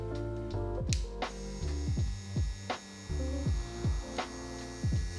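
A COCO Zero Gap digital hair clipper with a graphene blade runs at close range, giving a steady electric buzz whose pitch wavers and dips briefly as the motor is handled.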